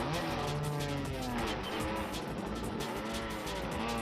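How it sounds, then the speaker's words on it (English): A Chevy Cruze British touring car races past at the Goodwood Festival of Speed, a sustained engine roar with a tyre squeal, heard from a moderate distance and fairly faint, with no talking. "it's a Chevy Cruze, which is probably a newer generation British touring car."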